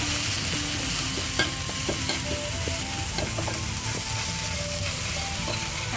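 Pork bone soup seasoning is stir-fried in hot oil, giving a steady, close sizzle with repeated scrapes and taps of a spatula against the pan. No one speaks.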